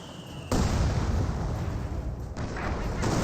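Mortar fire in Company of Heroes 2: a loud, booming blast breaks in and rumbles on, with a second thump shortly after, heavy and close amid battle noise.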